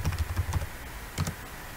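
Fingers type a password on a computer keyboard, giving a quick run of close, crisp key clicks that breaks off briefly and then resumes with a short second burst.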